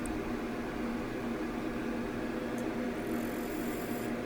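A wooden bowl being hollowed on a lathe with a bowl gouge, turning at about 650 rpm, gives a steady, even whirring drone with a continuous hiss, with no one speaking over it.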